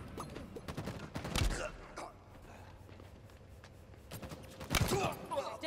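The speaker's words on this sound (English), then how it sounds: "Gunfire." Sharp bursts of gunfire in the video game Halo 2 crack out in a couple of clusters, mixed with footsteps and clatter, with a voice speaking in between.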